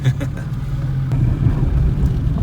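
A small ZAZ-11055 pickup engine, under 70 horsepower, idles with a steady low rumble close by, running continuously throughout the short stretch.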